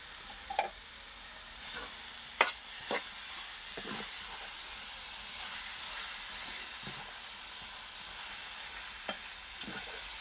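Stirring raisins into carrot halwa (gajrela) in a pan: a soft steady sizzle runs under occasional scraping taps of the spoon against the pan, faint and close with no talking.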